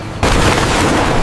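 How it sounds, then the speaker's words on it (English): A sudden loud boom from a banana cannon firing in a video game bursts out after a brief quiet, followed by a sustained roaring blast that fills the rest of the moment. "Banana cannon!"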